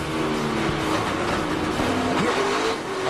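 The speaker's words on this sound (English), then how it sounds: "Things bouncing off his truck." A race truck at the 2006 John Deere 200 roars steadily at speed through a crash-strewn track, its engine loud and continuous with other engines whining around it, and no voices.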